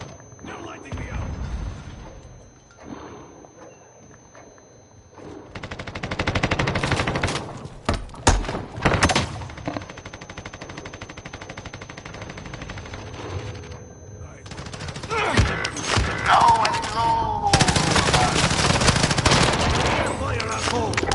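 Gunfire in the video game Warzone: dense automatic bursts and rattling shots come in loud clusters, close and intense, with short quieter gaps between volleys and a voice talking at times.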